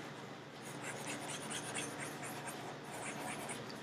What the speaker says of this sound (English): Gotta erase everything again.